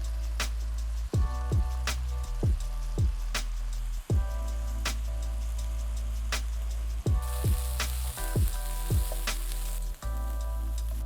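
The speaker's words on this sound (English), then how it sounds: "And all you're gonna do with the mince is just crumble it into the pan." Vegan plant-based mince crumbled into a hot pan, frying with a steady hiss and crackle, punctuated by repeated sharp clatters of a utensil knocking against the pan, close and without talk.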